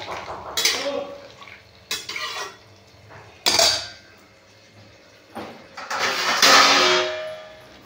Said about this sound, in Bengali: একটু নেড়ে ঢেকে দিয়ে দেবো।